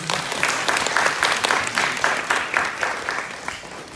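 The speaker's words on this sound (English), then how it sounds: "let's give him a huge round of applause" An audience gives a round of applause after a testimonial talk, a few rhythmic, fairly close bursts of clapping that gradually thin and fade toward the end.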